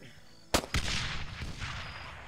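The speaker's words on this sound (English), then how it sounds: "Give him a single shot." A single sharp gunshot cracks out in an X-COM-style tactical video game, aimed at a shielded enemy, followed quickly by a second impact and a lingering rumbling decay.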